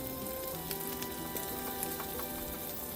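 Onion and garlic sautéing in a little oil in a pan, a dense crackling sizzle that holds steady throughout, close and fairly quiet, with no talking.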